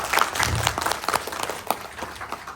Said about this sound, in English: a huge round of applause for making it a great success